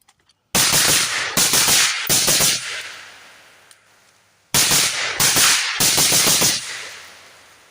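Rapid strings of gunshots fired through a YHM Resonator K suppressor: two loud bursts of closely spaced, booming cracks, each string breaking into short clusters with a quiet pause between the two volleys.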